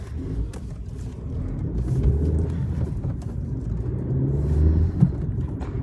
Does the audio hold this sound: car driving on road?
yes